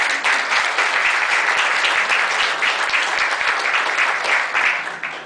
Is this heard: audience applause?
yes